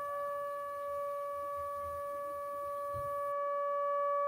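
An electronic alarm sound effect plays as one steady, unbroken tone with bright overtones, held for several seconds at moderate loudness over a faint low rumble.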